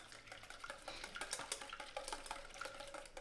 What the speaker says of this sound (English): So I'm just going to give this a quick whisk just to break it up